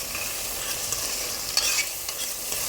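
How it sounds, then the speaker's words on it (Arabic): A spoon stirs spices into basmati rice in a pan with a soft scraping rhythm, over a light steady sizzle of oil, close and alone. "ونقلب."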